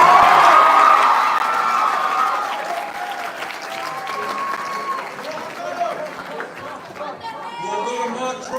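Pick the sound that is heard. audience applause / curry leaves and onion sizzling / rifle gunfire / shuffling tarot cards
audience applause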